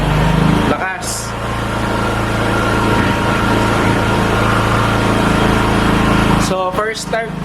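An Easyride 150P motorcycle engine runs at a fast idle of about 3,000 RPM right after its first start, a steady buzzing drone with talk over its beginning and end.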